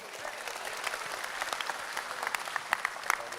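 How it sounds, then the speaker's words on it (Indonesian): An indoor event audience bursts into applause, a dense wash of many hands clapping at moderate distance, growing a little sharper toward the end. "tepuk tangan luar biasa atas sambutan tadi"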